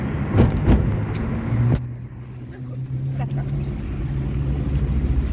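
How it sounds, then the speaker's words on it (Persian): A car moving along a road, its low engine and road rumble steady throughout, with a few knocks and rattles near the start. "ماشین در حال حرکت هست"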